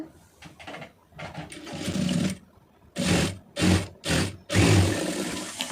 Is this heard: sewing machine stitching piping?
yes